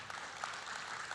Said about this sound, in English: Can we have a round of applause for Uma, please?